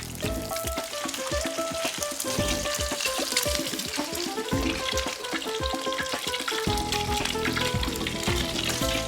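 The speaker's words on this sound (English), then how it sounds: "Then lay in the pieces of meat and brown them well on top and bottom." Pork belly pieces browning in oil in a cast iron skillet give a steady, close sizzle that runs loud and unbroken throughout, with no talking.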